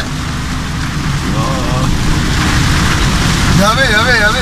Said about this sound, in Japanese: 雷怖っ。